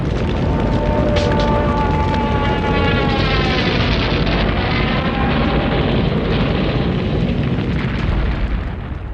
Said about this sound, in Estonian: pommitab punalennuvägi ööl vastu 9. märtsit Tallinna